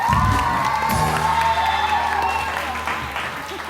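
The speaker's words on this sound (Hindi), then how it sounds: "बहुत सारी तालियां राफे के लिए भी।" A studio audience on a televised morning show applauds and cheers, the clapping loud at first and easing off, mixed with whoops and voices and a sustained musical tone underneath.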